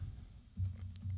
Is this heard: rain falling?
no